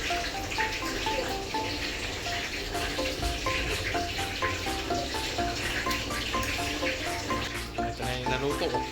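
Pork lechon kawali frying in hot oil, a steady sizzle running beneath melodic music that plays loudly throughout.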